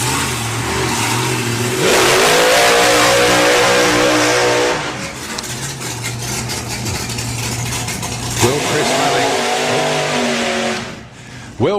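A slingshot dragster races down the strip at Santa Pod Raceway during the Hot Rod Drags 2020, its engine roaring loud and near, easing off and then surging up again in a sustained, powerful run.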